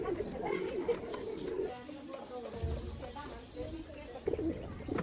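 Pigeons on a crowded farm full of young birds keep up low, throaty cooing, near and overlapping, with murmured voices and general shed noise in the background throughout.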